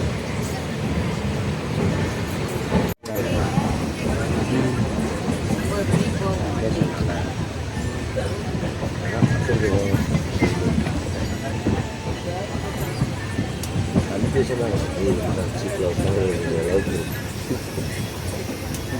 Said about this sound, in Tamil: இதுதான் நாகர்கோவில் வரைக்கும் ட்ரெயினை சுமந்துட்டு போகும்போது பாருங்கள்